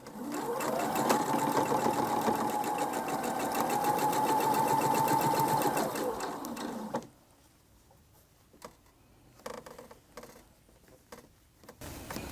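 A sewing machine stitches quilt blocks in a steady, fast whirring run for about seven seconds, then stops, leaving faint handling clicks and fabric rustles.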